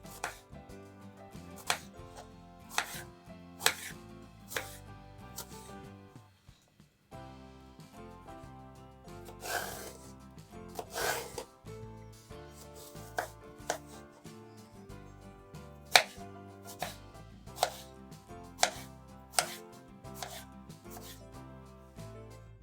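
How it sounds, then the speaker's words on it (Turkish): A knife chops through eggplant on a cutting board in quiet, irregular thuds, some single, some in quick runs, close by with no talking. "soyduğumuz patlıcanları bu şekilde çok küçük olmayacak şekilde orta boy olarak doğruyoruz"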